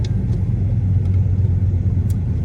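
A fire-damaged Ford F-150 truck engine idles with a steady low rumble, heard from inside the cab, close and continuous with no speech.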